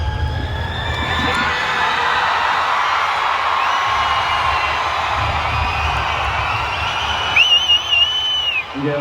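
A large crowd cheers and applauds for Sivakarthikeyan, with a loud steady roar, whoops and shrill whistles near the end.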